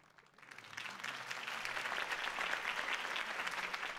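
Crowd applause after a campaign speech in Batman: The Telltale Series, swelling in within the first second into steady, fairly quiet clapping from a large audience that holds level to the end.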